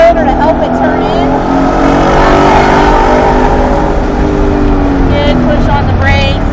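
A Ford race car engine accelerates hard on the Charlotte Roval road course, its loud, sustained roar rising steadily in pitch as the throttle opens, with an instructor talking over it from inside the car.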